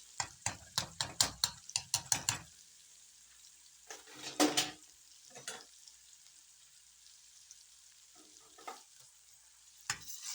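Chopped onion and grated garlic frying in a pan for a sauce, opening with a rapid series of loud scraping stirs, then a quieter sizzle broken by a few scattered spoon knocks.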